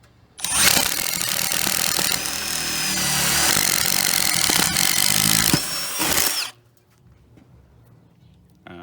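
A 3/4 inch spade bit bores into wood while a dowel-sized hole is drilled for a tool box, a loud steady whirring grind lasting several seconds before the drill stops, leaving quiet room tone.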